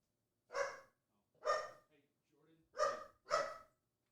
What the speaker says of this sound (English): My dogs are barking, and I don't want that to ruin this video.